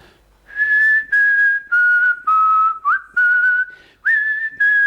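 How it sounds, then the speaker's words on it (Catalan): Someone whistles a slow melody nearby, clear pure notes separated by short breaths, the tune stepping gently up and down. "ell començà a agafar aire i començà a xiular-la"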